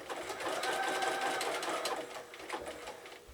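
Sewing machine zig-zag stitching an appliqué piece, a fast rattling mechanical whir running steadily at close range, easing slightly toward the end.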